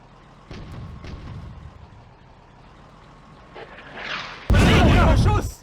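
A mortar shell blast in the Eastern Front war game Firefight: distant rumbling and scattered battle noise build up, then a sudden loud, close blast bursts out near the end and keeps roaring.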